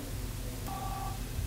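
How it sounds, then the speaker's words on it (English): A VoIP telephone call is placed, with one short dial tone sounding midway for about half a second over a steady background hiss. "Alice now calls Jack"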